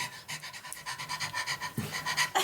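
A person imitates a ghostly dog panting during a spooky tabletop role-play game: quick, breathy pants repeat in a steady rhythm, close and fairly loud, with no other talk.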